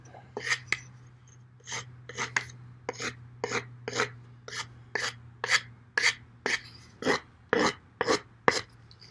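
Ruike M195 rescue knife scraping along a piece of wood to smooth it, a run of short rasping strokes in an irregular rhythm that grows slightly louder and quicker, close up, over a steady low hum, with no talking.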